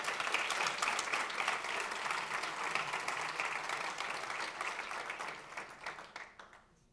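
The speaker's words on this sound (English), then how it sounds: "Let's give a huge applause" An audience at a tech meetup in Madrid claps continuously for several seconds, a dense crowd applause that gradually fades out toward the end.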